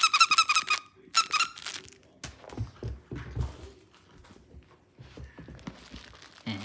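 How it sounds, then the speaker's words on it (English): A new puppy's squeaky toy gives sharp, rapid bursts of squeaks up close, followed by softer rustling, crinkling and scuffing as the dog handles the toy. "Where's the squeaker?"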